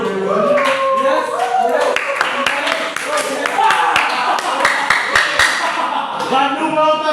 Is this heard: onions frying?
no